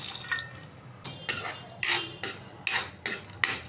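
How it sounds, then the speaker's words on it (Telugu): Peanuts, coriander seeds and coconut dry-roast in a pan over low heat, with a regular series of about seven sharp scraping, rattling stirs against the pan, close and evenly spaced, with no talk. "ఇవి సన్నమంట మీద వేయించుకోవాలి ఈ పల్లీలు కొబ్బరి కొంచెం వేగాలన్నమాట"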